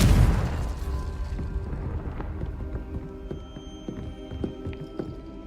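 A Confringo spell blast in the Hogwarts Legacy video game opens with a loud, deep burst, then rumbles and fades into scattered crackles and small knocks.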